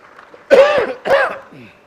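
Two harsh, close coughs in quick succession, loud and throaty, followed by a faint trailing breath.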